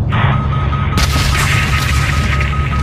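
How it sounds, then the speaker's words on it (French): A missile strike blasts an anti-aircraft battery in a French-dubbed action film: a loud explosive boom hits about a second in, followed by a dense roaring crackle of debris and fire under a sustained electronic tone. "Faites exploser cette batterie anti-aérienne."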